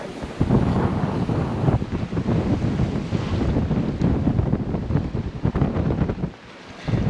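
Strong wind gusts batter the microphone aboard a sailboat heading upwind through short, choppy seas in 15 to 20 knot winds, with waves splashing and rushing continuously and loudly, easing briefly near the end.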